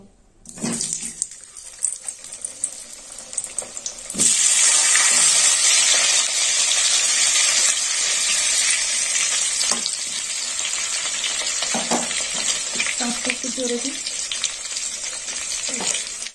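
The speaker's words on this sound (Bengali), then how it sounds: "প্রথমে আলুটা ভেজে নেব।" Potato pieces frying in hot oil for Bengali kosha phoolkopi, a loud, steady bubbling sizzle that swells after a few seconds and runs throughout, with occasional stirring clinks and a brief spoken remark near the start.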